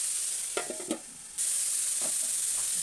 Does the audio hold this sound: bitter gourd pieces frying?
yes